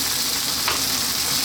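Ground coriander, chilli, cumin and turmeric powders fry for a chicken curry, giving a steady, close, fairly loud sizzle with no pauses and no voices.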